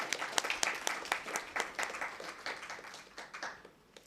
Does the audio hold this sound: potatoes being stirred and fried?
no